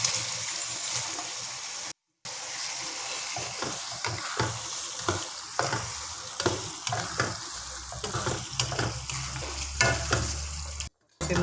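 Cuttlefish frying in a masala sambal in a pan, a loud continuous sizzle broken by repeated scraping stirs of a spoon, with two brief silent gaps and no speech.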